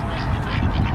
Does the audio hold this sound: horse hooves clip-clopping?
no